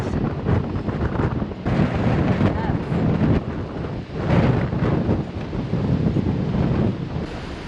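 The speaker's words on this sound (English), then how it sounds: "The wind must be pushing us against the wall." Steady wind roars across a motor yacht on the river and canal route between Waterford and Schenectady, New York, a loud continuous buffeting rush with water noise beneath and muffled voices mixed in.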